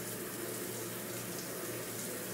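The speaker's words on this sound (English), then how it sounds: "don't be afraid to whip under the water stream" A shower's water stream runs steadily while foam is rinsed from hair, a faint, even rushing with no breaks.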